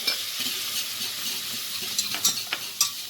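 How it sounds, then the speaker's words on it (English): Flour being stirred into melted butter in a pan to make a roux gives a close, soft, steady sizzle with scraping stir strokes and a few sharper spoon taps toward the end. "my butter has melted, so now I'm adding same amount of flour"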